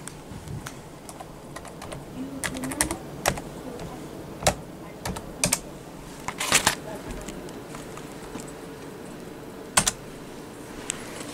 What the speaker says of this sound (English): I have to type a password